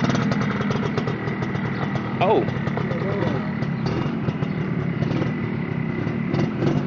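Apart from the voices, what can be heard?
motorcycle engine idling and pulling away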